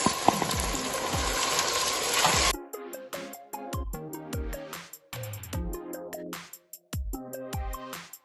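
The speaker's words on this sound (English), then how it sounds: "We are adding our chopped tomato to the onions." Chopped tomato hits onions frying in a little oil, giving a loud, broad sizzle for a couple of seconds before it cuts off and plucked tonal music takes over.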